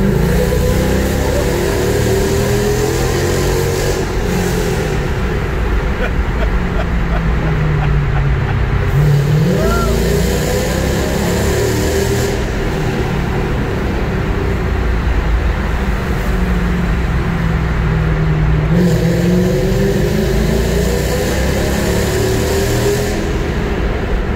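A Mercedes C55 AMG drives under load, its engine rising and falling through repeated pulls and gear shifts with a deep exhaust note, loud and sustained over about twenty-four seconds.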